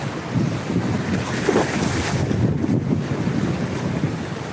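Wind and surf at Muthyalammapalem beach in Anakapalli district, a steady broad rushing roar of waves and wind buffeting the microphone throughout, with no voices.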